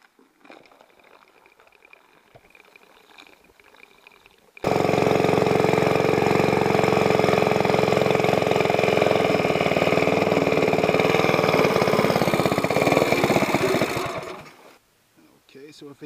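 A mud motor go-kart engine with a Mikuni carburetor idles loudly and close, a steady buzzing putter that starts suddenly after quieter background sounds and runs for about ten seconds before dying away.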